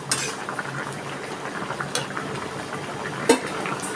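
Pot lid lifted while fish and eggplant curry simmers: a brief metallic clink of the lid over steady bubbling and kitchen clatter.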